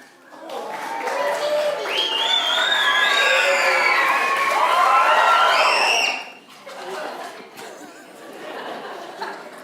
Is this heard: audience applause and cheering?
yes